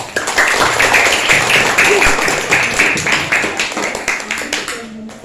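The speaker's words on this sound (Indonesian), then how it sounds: "mari kita aplaus, tepuk tangan untuk peserta yang hadir" An audience applauds the participants of an elementary-school Islamic quiz competition, loud, dense clapping that swells and then tapers over several seconds, with voices mixed in underneath.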